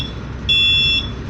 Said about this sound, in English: You can see the depth alarm buzzer is already activated.